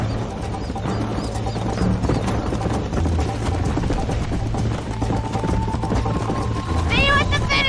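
Horses gallop in a Red Dead Redemption race, a quick steady clip-clop of hooves mixed with game music and ambience, and a shout cuts in near the end.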